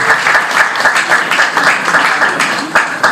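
A crowd at a Christian wedding's ring exchange claps steadily, a dense, loud, continuous applause from many hands up close, with voices faintly mixed in.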